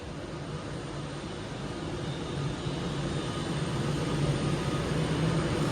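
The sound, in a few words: train arriving at station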